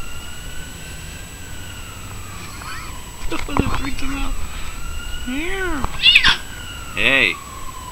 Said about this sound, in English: He's a kitten.